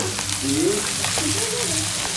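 Food seasoned with saffron, salt and pepper fries in hot oil in a Tananarive kitchen, giving a steady close sizzle with faint crackles while a voice murmurs briefly underneath.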